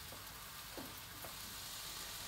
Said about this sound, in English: you can just cook both the onions and the beef mince together